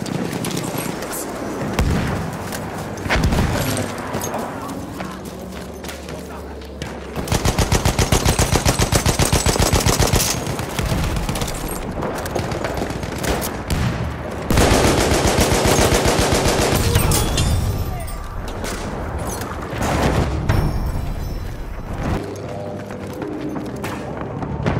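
Sustained machine gun fire in a Battlefield 1 Conquest battle at Soissons, long loud bursts of rapid shots layered with distant gunfire and explosions through the whole stretch.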